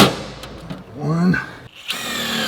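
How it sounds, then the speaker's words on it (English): A power drill spins up in short bursts, whining as it bores holes into the metal of a 1969 Chevy C-20, with pauses and handling noise between the passes. "And then we'll drill the rest of the holes that way."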